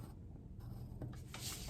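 Pen or pencil drawing lines across a paper sleeve pattern, a soft scratchy scraping heard close and quiet, in a few short strokes with brief pauses between them.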